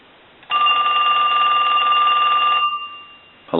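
A Western Electric Trimline telephone bell rings loudly in one sustained metallic burst lasting about two seconds, then fades, with another ring starting at the end.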